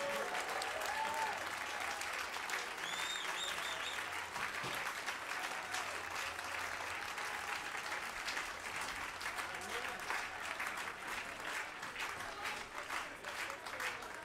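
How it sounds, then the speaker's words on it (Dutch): An outdoor jazz festival audience applauds after a live set, dense steady clapping from a large crowd that holds evenly for many seconds at a moderate distance, with a few cheers mixed in. "Een applaus."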